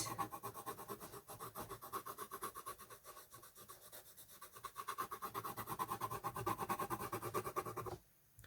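Coloured pencil glazing light ultramarine over red on paper, a close, continuous rhythmic scratching of fast back-and-forth strokes that stops abruptly near the end.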